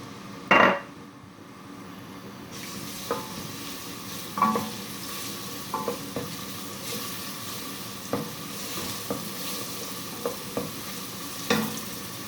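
Grated garlic, four large cloves, hitting hot sunflower oil in a pan, a soft steady sizzle with occasional stirring scrapes and light clinks, no talk.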